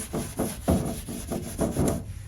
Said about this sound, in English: I start scrubbing it